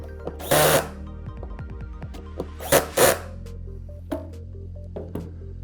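Screws being tightened during assembly of an office task chair, with a few short bursts from a power driver separated by quiet gaps and small clicks and knocks of parts.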